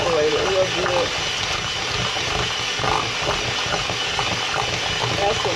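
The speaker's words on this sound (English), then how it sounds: "blend it real good because you want it real creamy" An electric mixer churns sweet potato pie filling with eggs into a creamy batter, a steady whirring and rattling grind that runs throughout while a person talks over it.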